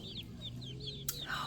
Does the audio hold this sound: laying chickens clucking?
yes